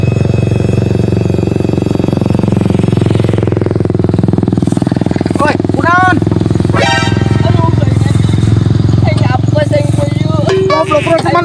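A motorcycle being ridden, its engine a loud, constant close drone throughout, with chirping and squealing sounds and voices talking over it.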